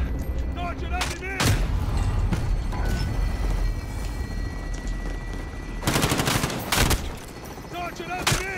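Rapid automatic gunfire rattles in Call of Duty Warzone, loud bursts near the start and again around the two-thirds mark over constant battle noise, with a voice speaking at times.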